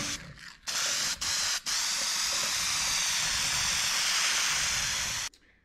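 An aerosol spray can lays coats of paint on parts from a 1955 Chevy, a loud, close, steady hiss in short bursts at first, then one long continuous spray.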